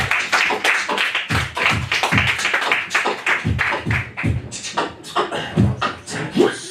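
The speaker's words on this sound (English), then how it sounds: "Give them all a huge round of applause and make their way back on stage." Comedy show audience clapping as comedians return to the stage, a dense, steady patter of many hands filling the room, fairly loud and continuous throughout.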